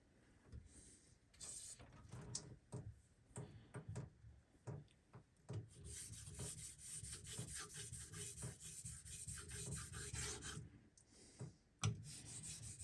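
A straight razor drawn back and forth over a convex finishing stone in a steady rhythm of close, raspy rubbing strokes, with a few sharper clicks along the way.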